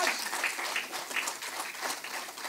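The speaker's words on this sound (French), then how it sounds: "vous pouvez les applaudir" An audience at a French regional roadmap presentation event applauds a team, steady dense clapping throughout with a few brighter claps standing out, with faint voices mixed in.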